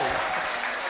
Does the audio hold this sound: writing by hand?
no